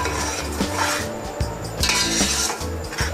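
Beef kababs being stirred into masala in a pot for biryani, heard as repeated clinks and scrapes of a metal spoon against the pot over a soft sizzle, close and without talk.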